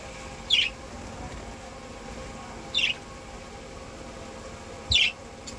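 Three brief, high-pitched chirps from budgerigar chicks bathing, evenly spaced about two seconds apart, over a quiet background hiss.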